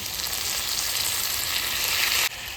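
Potatoes frying in hot oil with onion-garlic paste, cumin, ginger and dried chilli, a loud, dense, continuous sizzle up close that drops away abruptly near the end.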